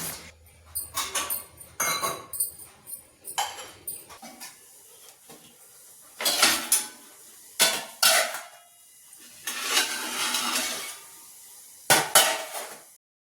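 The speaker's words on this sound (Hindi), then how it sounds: "रात के धुले हुए बर्तन सेट करना" Clean washed dishes and cutlery from the night before are stacked and set in place in a home kitchen early in the morning, with repeated clattering bursts of metal and ceramic knocking together close by and short pauses between them.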